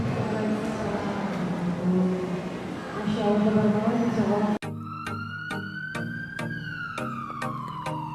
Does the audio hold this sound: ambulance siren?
yes